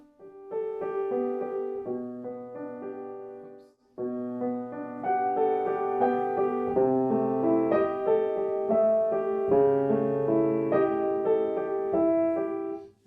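Solo piano playing a passage from Beethoven's Piano Sonata No. 3, Op. 2 No. 3, with the left hand crossing over the right for melodic fragments; clear close notes over moving chords, with a short break partway.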